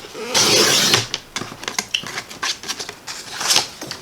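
Paper trimmer slicing through cardstock: a steady scraping swish for about half a second, then a run of quick clicks and light rustles, and a final short swipe, all close and with no speech.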